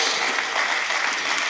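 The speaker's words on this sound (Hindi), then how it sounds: "एक बार आपसे गुजारिश की जोरदार तालियों से इस मुशायरे का इस्तकबाल कीजिए।" Loud, dense applause from a mushaira poetry gathering audience in Jalandhar, a continuous wash of many hands clapping for a second and a half.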